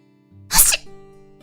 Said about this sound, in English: Wait, I want to sneeze.